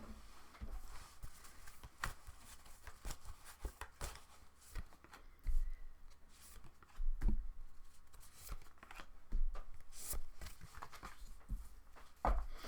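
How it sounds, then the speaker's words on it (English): Tarot cards are shuffled close by in a quiet room, giving soft, irregular bursts of riffling and tapping with pauses between them. "I'm just going to shuffle the cards"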